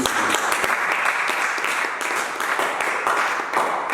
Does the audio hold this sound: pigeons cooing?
no